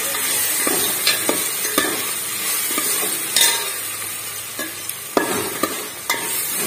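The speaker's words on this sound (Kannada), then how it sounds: "ಸ್ವಲ್ಪ ಕರಿಬೇವು ಸೊಪ್ಪನ್ನ ಹಾಕೊಂಡು ಫ್ರೈ ಮಾಡ್ತಾ ಇದೀನಿ" Curry leaves frying in a pan of oil over a low gas flame for a pasta dish: continuous crackling sizzle broken by repeated sharp clicks and scrapes of stirring.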